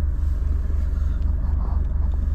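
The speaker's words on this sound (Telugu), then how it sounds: "వెహికల్ బటన్ ప్రెస్ చేస్తే వెహికల్ ఆటోమేటిక్గా స్టార్ట్ అయితే అయిపోతుంది" Steady low idle rumble from a 2017 Maruti Suzuki Swift Dzire ZDI diesel after a push-button start, heard from inside the car with an even, continuous drone.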